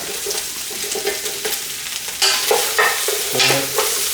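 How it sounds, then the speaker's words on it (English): Onions stir-fried in a pan while a Cantonese beef stew is prepared, with steady sizzling and repeated scraping stirs of the spatula running throughout, close and fairly loud, with no talking. "Stir fry."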